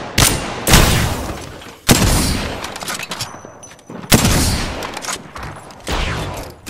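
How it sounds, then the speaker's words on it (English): Video game gunfire: several loud, close bursts of rapid shots, each a sharp crack trailing into rattling decay, separated by brief lulls over roughly seven seconds. "Getting shot at"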